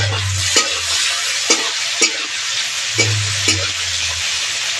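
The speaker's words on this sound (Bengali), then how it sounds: "এবার দেবো গাজর কুচি, এবার টমেটো কুচি দেবো।" Chopped carrot and tomato stir-fry in a pan under a loud, steady hiss of sizzling. Regular spatula scrapes sound about once a second at close range, and no voice is heard.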